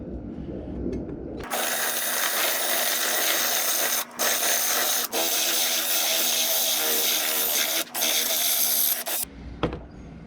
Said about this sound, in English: So I'm going to try a smaller drill bit and see if that helps, so I don't have to put as much downward pressure.